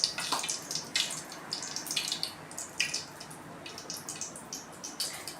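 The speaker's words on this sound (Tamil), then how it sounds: "கடுகு பார்த்திங்கன்னா பட நல்லா பொரியுது" Mustard seeds spluttering in hot oil in a pan, giving a run of sharp irregular pops and crackles that come and go in close-up, with no voices.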